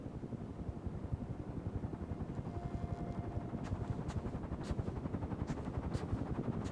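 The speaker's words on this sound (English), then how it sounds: "I hear a helicopter." Helicopter in a video game flying overhead, a steady loud rotor chop pulsing throughout with some faint higher game sound effects over the top.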